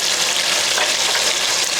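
A salmon fillet frying in a pan, a dense, even sizzle and crackle of hot oil running without pause, close and loud, with no voices.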